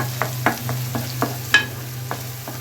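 Brain being stirred with spice masala in a pan, a rhythmic series of close spoon scrapes and clinks over a low steady frying hum, about nine strokes.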